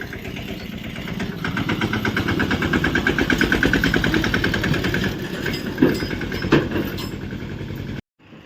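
A tractor engine running nearby with a steady, throbbing diesel chug that holds for several seconds, followed by a couple of clunks before it cuts out abruptly.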